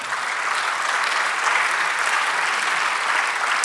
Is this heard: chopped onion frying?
no